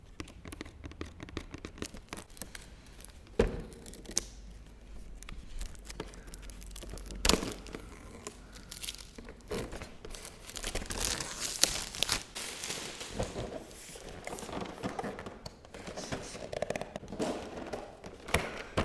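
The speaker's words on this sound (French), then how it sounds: "Je vais ouvrir la case." A small paper door on a cardboard advent calendar is picked open in a quiet room, with close, scattered crinkles, soft tearing and light taps that come and go unevenly.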